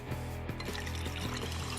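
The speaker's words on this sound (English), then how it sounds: "She takes out a gigantic king-size flask and fills it with water." Water pours steadily into a gigantic king-size flask, a continuous close splashing fill with no talking.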